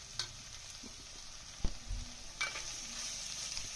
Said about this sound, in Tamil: அடுத்தது நம்ம துருவி வச்ச முட்டைகோஸையும் போட்டு நல்லா அந்த பச்சை வாசம் போகிற மாதிரி வதக்கிங்க